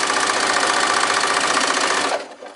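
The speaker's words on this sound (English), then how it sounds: "and we simply sew down." A sewing machine with a walking foot runs steadily, stitching down strips on a crazy quilt table runner with gray thread, a loud continuous mechanical whir that stops abruptly near the end.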